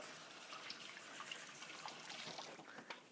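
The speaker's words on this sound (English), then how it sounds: "gonna wash my hands again" Water trickles from a kitchen tap while hands are washed, a faint, steady running stream with small irregular splashes and no talking.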